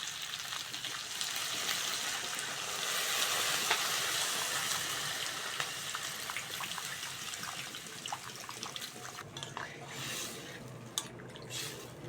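Water poured into a pan of spiced fish curry with turmeric, chilli powder and salt, a steady trickling splash that runs for several seconds before thinning into faint drips and bubbling.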